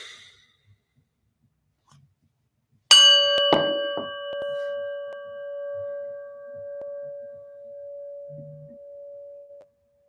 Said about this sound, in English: After we ring the prayer bell